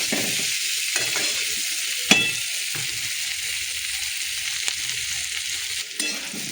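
Potatoes, pointed gourd and onion fry in hot oil with a loud, continuous sizzle, broken by a few sharp scrapes and knocks as the pan is stirred.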